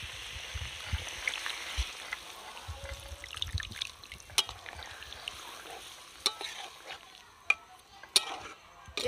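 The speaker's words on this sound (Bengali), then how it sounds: "এবার আমি একটু জল দেবো।" Water trickles into spiced potatoes being cooked for Kashmiri aloo dum, a soft hissing sizzle with light stirring scrapes and a few sharp clicks of a utensil against the pot, fairly quiet and close.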